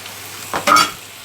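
Bulgur sautéing in a pan, a low sizzle broken by two quick scraping stirs, the second louder, with no speech.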